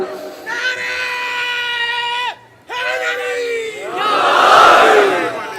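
A large crowd at a religious majlis gathering chants slogans in unison, long loud sustained voiced calls with a brief pause, then a rising roar of many voices.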